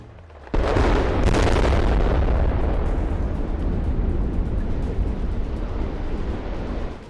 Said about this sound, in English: a controlled demolition turned the massive concrete structure into a neatly contained pile of debris